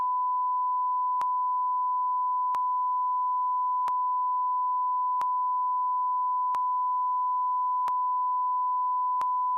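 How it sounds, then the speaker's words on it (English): A steady mid-pitched censor beep tone runs throughout, with brief clicks at regular intervals of about one and a half seconds; no voices. "put a beep on it"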